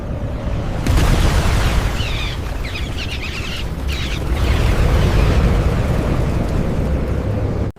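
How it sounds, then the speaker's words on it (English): Sand bursting open in a desert, a sustained rumbling boom with crackling debris, loud and close, swelling and holding for several seconds before stopping abruptly. "The sand burst open behind him"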